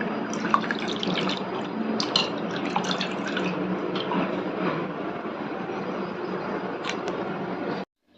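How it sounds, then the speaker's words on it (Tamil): Water splashes and drips as chana dal is washed and soaked in a kitchen for banana flower vada, a continuous close trickling wash with small irregular clinks, ending abruptly. "வாஷ் பண்ணி ஊற வச்சிடலாம்"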